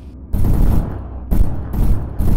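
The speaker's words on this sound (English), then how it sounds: "we'll engage with machine gun once given the go over" A machine gun on a gunnery range fires in three rapid, loud bursts, each a dense clatter separated by short pauses.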